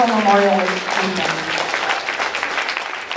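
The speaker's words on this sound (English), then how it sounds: "Can we give a round of applause for Mrs. Fenwellston" Applause from a group at an awards presentation fills the room, starting with a voice speaking over it before the clapping carries on steadily at moderate loudness.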